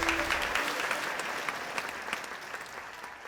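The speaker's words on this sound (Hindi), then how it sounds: "यस यस, जोरदार तालियां गाइस," Audience applause at a Hindi TV sitcom's singing competition prize announcement, steady dense clapping that holds for several seconds and slowly thins toward the end.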